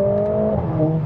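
A tuned Mercedes-AMG A45S pulls hard in first gear with traction control off, its engine note loud and close, holding a steady droning tone that climbs slightly as it revs, with no talking.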